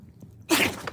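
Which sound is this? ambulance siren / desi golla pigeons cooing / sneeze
sneeze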